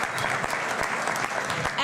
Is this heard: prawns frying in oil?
no